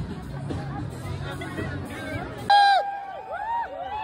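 Crowd hubbub on Mall Road in Manali: a dense babble of many voices with a steady undertone, then a sharp shout and tonal calls and voices over a thinner crowd murmur.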